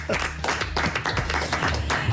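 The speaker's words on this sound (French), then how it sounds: "Et mes applaudissements" Studio audience applause on a French live talk show, heard as steady clapping of moderate loudness with voices over it.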